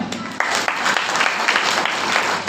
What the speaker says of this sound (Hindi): भाई के लिए ताली बजाता है ना?